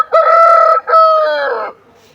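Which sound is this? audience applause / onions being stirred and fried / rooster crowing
rooster crowing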